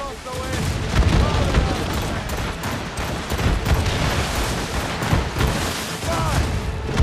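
Ship cannon fire in Assassin's Creed Rogue naval combat, a continuous dense barrage of booming shots and blasts heard alongside shouting crew voices.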